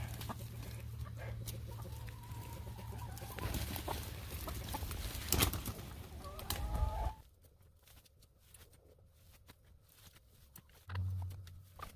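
Chickens cluck and murmur nearby over a low hum that cuts out midway, leaving scattered soft clucks in a quieter space.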